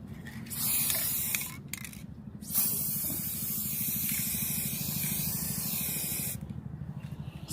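Aerosol spray paint hisses in long continuous bursts as gold coats a shoe, close and steady, with brief pauses between sprays.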